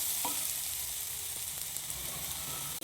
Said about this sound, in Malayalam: നമുക്കിനി ഈ ഉള്ളി ഒന്ന് നല്ലവണ്ണം വശക്കിയെടുക്കാം.